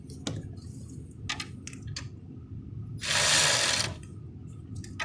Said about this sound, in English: Time to take out some manifold bolts.